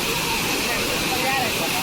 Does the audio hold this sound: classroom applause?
no